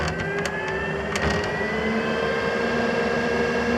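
A 12V Omnivent roof fan in a motorhome runs steadily, pulling air out with a continuous even whir and a few light clicks near the start.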